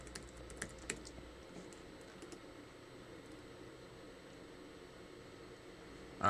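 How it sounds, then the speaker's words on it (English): Password being typed on a computer keyboard at a desk, a quick burst of soft key clicks at the start followed by quieter scattered taps over a steady low room hum. "I have to enter my password."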